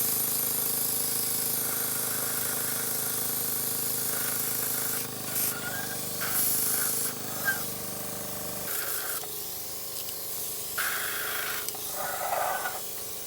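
Sparmax Arism airbrush compressor whirring steadily while an airbrush sprays a test piece, a continuous hiss with brief bursts and pauses of spraying over a constant motor hum, close and moderately quiet.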